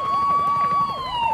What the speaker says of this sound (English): You heard the sirens, boy.